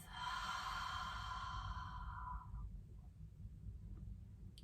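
A slow, faint breath out through the mouth, a soft airy exhale lasting a couple of seconds before quiet, during a guided breathing exercise.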